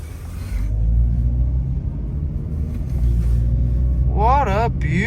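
A SEAT car with a 1.4 automatic gearbox is being driven, heard from inside as a steady low engine and road rumble throughout, with a voice talking over it near the end.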